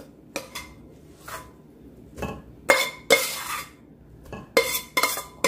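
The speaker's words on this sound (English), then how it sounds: "Alafu tunaendelea kuponda" Potatoes and spinach being mashed in a pot for Kenyan mukimo, with a scattered series of clinking scrapes and knocks of utensil on metal, loud bursts separated by short pauses, no talking.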